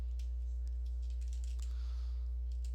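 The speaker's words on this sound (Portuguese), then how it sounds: "Então, você vai digitar locale.setDefault" Quiet typing of Java code on a computer keyboard: a few soft, scattered keystrokes sit faintly over a steady electrical hum.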